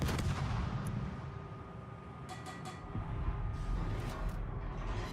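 Warship guns fire in the naval battle game World of Warships, heavy booming reports layered over a constant low rumble, with several crisp cracks spaced through the stretch at moderate distance.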